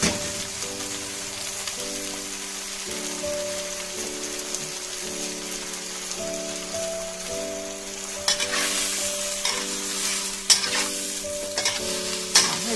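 Food is stir-fried in a pan and a splash of water is added, giving a steady close sizzle with scraping stirs, then a sharper, louder burst of hissing as the water hits the hot pan.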